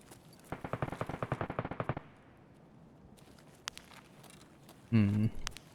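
Rapid automatic gunfire in Escape from Tarkov, a burst of about a dozen shots in quick succession, followed by quiet and then a short loud thump with faint voices in the background.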